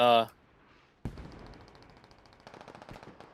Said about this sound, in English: What's that airstrike?